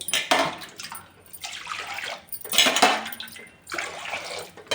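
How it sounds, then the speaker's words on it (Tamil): Water splashes and pours in uneven bursts into a metal pot for cooking rava pongal, with clinking of utensils close by and no voices. "இப்போ இந்த ஒரு கிளாஸ் ரவாவுக்கு மூணு கிளாஸ் தண்ணி"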